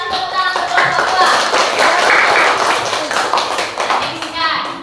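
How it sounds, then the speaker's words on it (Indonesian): A school class claps for a group during a lesson, with brisk rhythmic clapping and tapping under children's voices and chatter in a classroom. "Kasih tepuk tangan untuk kelompok 2."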